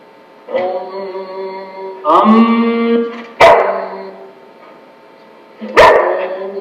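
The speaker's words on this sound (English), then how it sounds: "Sorry, that was my dog." A pet dog barks at home with four loud, close, sharp barks and yips spread out over several seconds, with quiet gaps between them.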